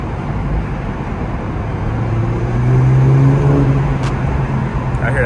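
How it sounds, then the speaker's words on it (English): A muffler-deleted Infiniti Q50 driving through a tunnel, its steady engine drone and low exhaust rumble building slightly in the middle, with a brief faint whistle near the end, echoing loudly in the enclosed space. "I hear that turbo."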